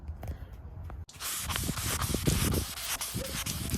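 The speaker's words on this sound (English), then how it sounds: "A lot more sanding." Fine abrasive rubbing starts after a brief quiet moment, a steady scratchy hiss of 1200-grit sandpaper on a car's clear coat that continues with slight rhythmic variation.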